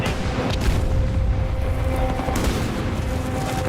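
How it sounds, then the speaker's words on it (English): A grenade blast in a war video game, heard as a deep, muffled boom that rumbles on under a dense low roar of background battle noise. "Grenade! Get down!"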